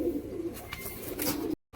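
Tagged pet pigeons cooing nearby, a few soft low coos over a quiet background that cut off abruptly near the end.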